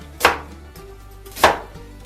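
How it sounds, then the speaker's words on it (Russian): A kitchen knife chops through an onion on a board while marinade for oven-baked pork ribs is prepared: two sharp, close chops about a second apart, with no talking. "Теперь нарезаем лук"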